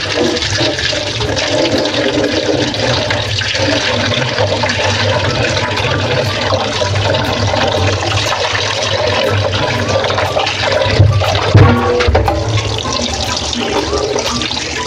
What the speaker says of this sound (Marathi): आता सगळ्यात आपण हे मस्त लेग पीस स्वच्छ धुवून घेऊया.